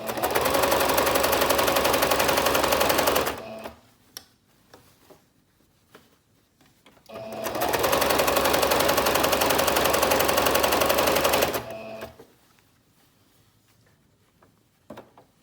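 A sewing machine stitches gathered, ruched fabric for an off-shoulder top, running in two steady loud bursts of about four seconds each, separated by quiet pauses with faint handling sounds.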